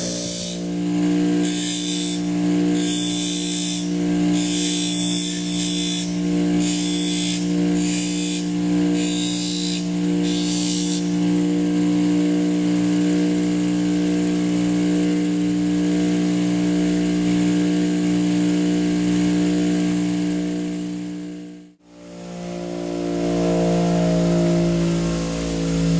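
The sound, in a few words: grinding wheel sharpening serrated knife teeth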